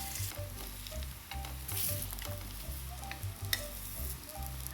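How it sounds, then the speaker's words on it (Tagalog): Saba bananas sizzle and crackle steadily in hot oil in a pan, a dense continuous frying hiss with small pops throughout, close and fairly loud with no talking. "Then itong mga saging natin ay pipituhin lang natin ng bahagya."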